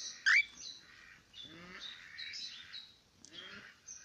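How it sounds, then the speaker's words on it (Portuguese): A pearl cockatiel, a hand-reared female, gives short high chirps and warbling calls, with a sharp squawk near the start and softer trilling notes scattered through, heard close and alone. "Temos ainda disponível essa calopsita pérola."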